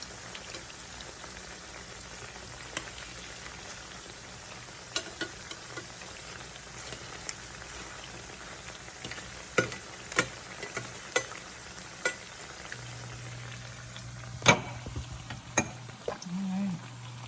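Tofu frying in a pan gives a soft, steady sizzle with scattered sharp crackles and pops, growing busier in the second half, with a faint low hum near the end.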